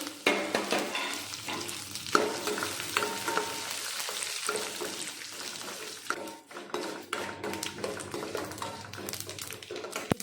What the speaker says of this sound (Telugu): ఉద్దిపప్పు శనగపప్పు మంచి కలర్ వచ్చేంత వరకు వేపుకోవాలి